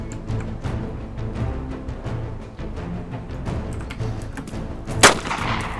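Gunfire from the video game DayZ Standalone: a rapid run of sharp, booming shots with echoing tails, and a louder, closer blast near the end.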